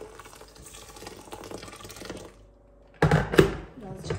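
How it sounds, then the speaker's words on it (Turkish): Boiling water is poured over bulgur in a pot, heard as a sudden close splash and gurgle of liquid near the end, after a stretch of softer kitchen noise. "Üzerine çıkacak kadar kaynar su ekliyorum."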